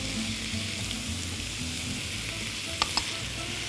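Red peppers frying in a pan, a steady soft sizzle and crackle throughout with a couple of brief clinks near the end.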